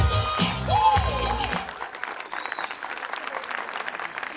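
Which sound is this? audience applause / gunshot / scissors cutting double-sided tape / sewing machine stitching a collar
audience applause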